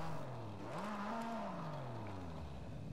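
A Porsche 911 RSR race car engine in Forza Horizon 5 revs up and eases back down, a rising then falling whine with a harsh edge, heard alone at moderate volume.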